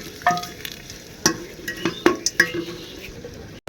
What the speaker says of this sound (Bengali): তো তেল গরম হয়ে গেছে, এবার দিলাম শুকনো লঙ্কা, দারচিনি, লবঙ্গ, এলাচ, আর দিয়ে দিলাম তেজপাতা।